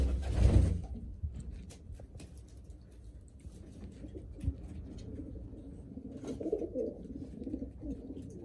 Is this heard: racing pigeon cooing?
yes